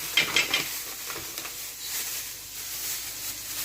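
Ground beef dropped into a hot pan already holding onion, giving a steady, close frying sizzle with a brief bump of stirring or plastic bag rustle at the start, no voices.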